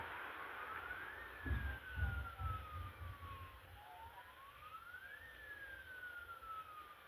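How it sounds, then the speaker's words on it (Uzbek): A police siren in the video game Real Gangster Crime wails in two slow rising-and-falling sweeps, faint and steady, over low engine rumble and a few dull thuds. "Sirena bilan."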